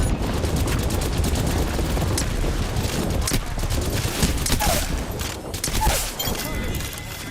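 Rapid gunfire and airstrike blasts in a battle-royale shooter game, dense and continuous bursts filling the whole stretch, with in-game voice callouts mixed underneath.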